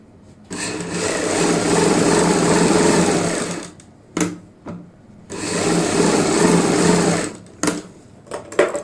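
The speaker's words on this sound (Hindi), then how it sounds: "अब हम इस साइड सिलाई लगाएंगे।" An electric sewing machine stitches a fabric sleeve in two long, loud, steady whirring runs, each several seconds, separated by brief pauses with clicks as the cloth is repositioned.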